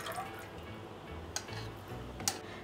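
Homemade butter made from cream is squeezed by hand, and water drips from it in a few sparse, quiet, close drops and trickles over soft background hiss. No one speaks.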